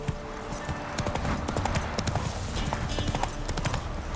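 A horse gallops in The Witcher 3: Wild Hunt with a rapid, steady clip-clop of hooves close by for a few seconds, over a soft ambient background.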